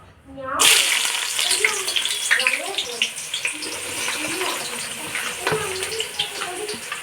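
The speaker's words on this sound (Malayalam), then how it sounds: "ഉള്ളി നല്ല നിറം മാറണ വരെ വഴറ്റുക" A steady sizzle of onions frying in coconut oil and Dalda, with crackles and pops throughout and a faint voice underneath.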